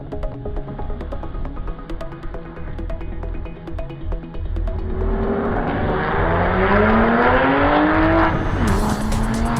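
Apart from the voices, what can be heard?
cars driving on race track at Indianapolis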